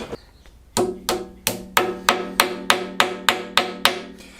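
Head locating dowels tapped into an engine block during an engine build: about eleven evenly spaced metallic hammer taps, each with a short ringing tone, close and clear with no talk.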